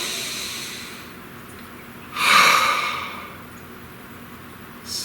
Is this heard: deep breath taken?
yes